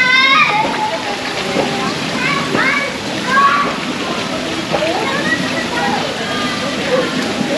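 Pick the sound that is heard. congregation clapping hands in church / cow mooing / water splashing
water splashing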